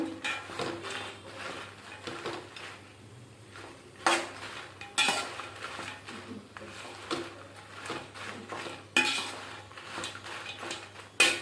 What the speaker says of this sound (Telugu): ఈ పచ్చిమిర్చి ఎండుమిర్చి పడతాయండి లో ఫ్లేమ్లో పెట్టుకుని వేయించుకోవాలి